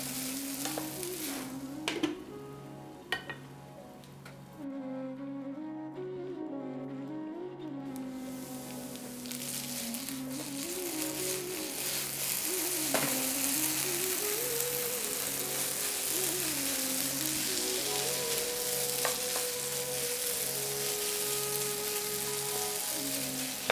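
Potatoes stir-frying with cumin in a pan over low heat, a steady close sizzle with rhythmic scraping and stirring strokes throughout, growing slightly louder partway through, no voices.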